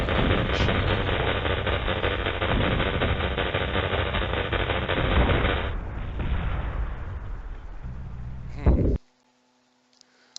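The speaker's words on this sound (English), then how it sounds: "Let's get into a medium-range combat with machine gun." A machine gun in the M.A.V. mech combat game fires in rapid, dense bursts that sound loud and close. The firing eases off and then stops abruptly, leaving near silence at the end.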